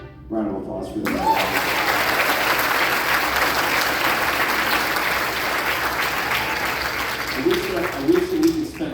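At a middle school concert an audience breaks into applause for sixth grade band soloists, a full burst of clapping starting after a brief spoken line and continuing steadily, with voices returning as it fades.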